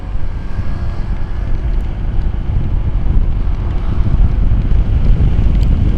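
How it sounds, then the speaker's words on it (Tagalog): Heavy rain pouring down on a rider aboard a Honda ADV 160 motorcycle in traffic, a loud, dense rumbling wash with wind buffeting the microphone, steady and close throughout. "Ang lakas ng buhos."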